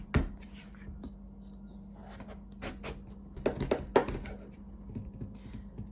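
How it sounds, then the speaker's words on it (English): A knife cuts a tough butternut squash lengthwise in half on a board, giving a few sharp knocks and crunching thuds clustered together under a low steady kitchen hum. "we're just going to cut it lengthwise in half"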